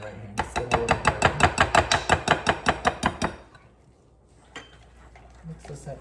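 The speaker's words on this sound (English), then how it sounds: "Mix this up here." Cornbread batter mixed by hand in a bowl: a quick, steady run of about fifteen sharp clinking strokes, close and fairly loud, then a pause and a few scattered softer taps.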